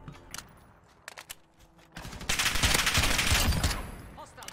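Rapid SMG gunfire in the shooter Modern Warfare, a few short bursts at first, then a loud sustained stream of automatic fire dominating the second half.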